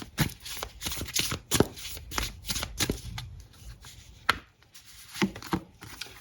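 A deck of tarot cards is shuffled by hand in quick bursts of crisp riffling and sharp slaps, close and fairly loud, with short pauses between rounds and no talk.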